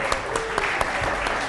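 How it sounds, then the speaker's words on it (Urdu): A studio audience at a televised Ramadan naat competition claps steadily for contestant Aliya, dense applause with a few sharper claps standing out, no talk over it. "تالیاں عالیہ کے لیے"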